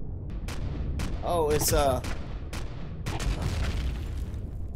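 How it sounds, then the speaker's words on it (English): Automatic sentry gun firing in Empyrion: rapid, evenly spaced bursts of shots under ongoing gameplay noise, with someone speaking briefly midway. "Yep, it's automatic sentry gun shooting at me."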